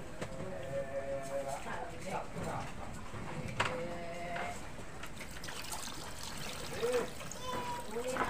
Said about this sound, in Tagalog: Bali nilalagyan na ng tubig.